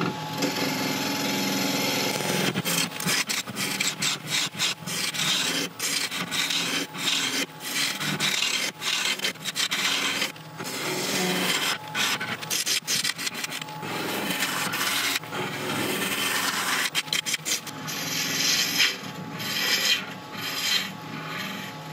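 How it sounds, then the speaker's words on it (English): Half-inch Record Power bowl gouge cutting yew on a wood lathe spinning at about 1300 rpm, a continuous loud close rasping, scraping hiss with frequent brief dips as the tool bites and lifts. "I've moved up to my half inch record power bowl gouge, and we can increase the speed now to about 1300."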